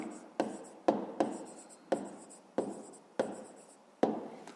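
A pen writes answer figures onto paper at a math lesson for fifth graders, giving close, dry scratching strokes in short repeated bursts with sharp onsets, each fading off before the next; no one speaks.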